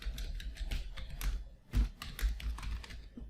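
Someone types a PostgreSQL admin password at the Windows 10 command prompt, a steady run of quick, close keyboard clicks with a few heavier key presses, and no voices.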